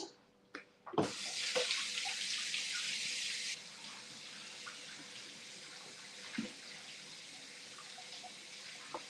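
A kitchen tap runs loudly for a few seconds while something is rinsed under it in a sink, then shuts off, leaving faint clinks and handling noises nearby.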